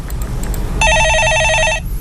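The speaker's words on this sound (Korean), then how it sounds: "예, 전화 받아보겠습니다." A studio telephone on a Korean call-in stock-advice radio show rings once with a bright electronic warble for about a second, loud and close over low room noise.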